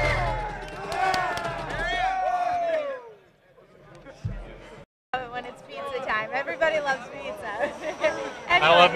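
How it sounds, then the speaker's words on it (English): A crowd at a men's basketball game yells and cheers loudly during a pizza giveaway, with excited shouts over steady babble, a brief lull, then another surge of cheering; people talk throughout. "The crowd is just going crazy."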